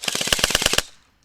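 A rapid burst of about a dozen snappy shots from Novrich electric airsoft pistols mounted on a robot fires in quick succession, close and loud, then stops abruptly into near silence.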